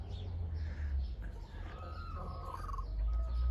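A brooding hen sits in a chicken coop, giving soft, faint clucks over a steady low background hum.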